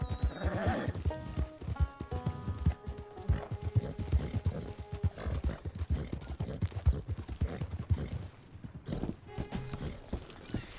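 Steady clip-clop of a horse's hooves with a whinny, from the video game Red Dead Redemption, heard close and loud over a busy game soundscape.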